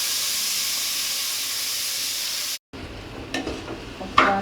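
Soaked rice is tipped into a pot of hot spiced liquid for coconut milk pulao and stirred, first a steady sizzling hiss, then after a brief gap a few scraping stirs with a spoon.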